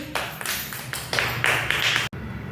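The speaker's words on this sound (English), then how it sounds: "Clap hands, everybody." People clap hands during a kindergarten children's activity, a few bursts of close, bright clapping that start and stop unevenly, with a sudden drop near the end.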